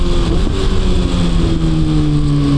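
A Kawasaki Ninja ZX-636 motorcycle fitted with a long exhaust runs close by with a loud, rough engine drone. The pitch holds fairly steady with slight shifts, and no voices are heard.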